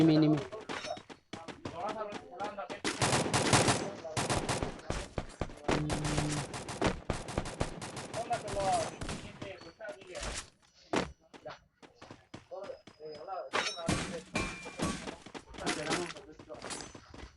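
Rapid gunfire in the mobile battle game Free Fire crackles in dense bursts and single shots across the span, loud and close, while someone talks excitedly over it.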